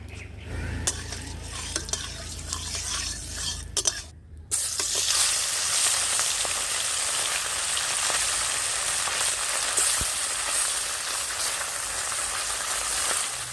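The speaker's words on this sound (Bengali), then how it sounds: "কড়াই গরম হয়ে গেছে দিয়ে দিচ্ছি সর্ষের তেল মাছগুলো ভেজে নেবো" Mourala fish frying in hot mustard oil in a wok, a steady loud sizzle that starts after a brief silence and continues densely without speech.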